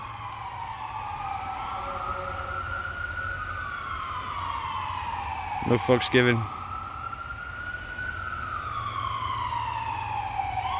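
An ambulance siren wails through a Cleveland street, its rising and falling tone sweeping steadily as it passes, with a brief burst of traffic noise midway and a voice speaking briefly over it.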